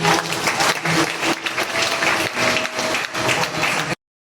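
A congregation applauding at a Thanksgiving Day church service after a prayer, a steady wash of many hands clapping close and loud for about four seconds, with a faint organ-like tone underneath before it cuts off abruptly.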